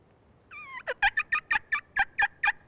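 A rapid rattling gobble from a turkey, a quick series of about ten sharp pulses, loud and fairly close, after a brief wavering call.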